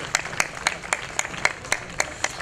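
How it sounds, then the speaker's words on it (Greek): An outdoor crowd at a police event in Kallithea's Davaki Square gives scattered, rhythmic applause, distinct claps landing at a steady pace, fairly faint and distant. "θα ήθελα ένα θερμό χειροκρότημα για αυτόν."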